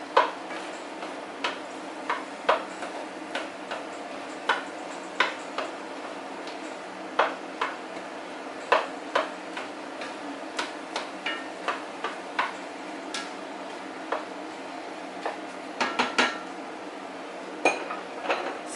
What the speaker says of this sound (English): Just come back and get this ground turkey chopped